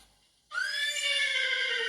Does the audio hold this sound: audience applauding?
no